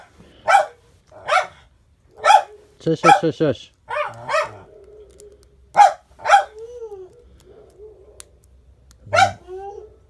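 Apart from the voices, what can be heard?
neighborhood dogs barking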